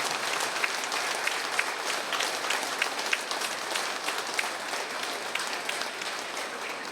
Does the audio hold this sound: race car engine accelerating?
no